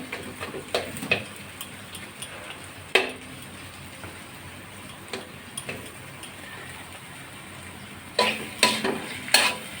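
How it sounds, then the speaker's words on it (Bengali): Moringa leaf mash is stirred in a hot pan, with a low sizzle under scattered clicks and scrapes of the spoon, bursts of louder scraping near the end, close by. "দেখতে এরকম নাড়াচাড়া করে দিতে হবে ভালো করে একদম ভর্তা ভর্তা হয়ে যাবে"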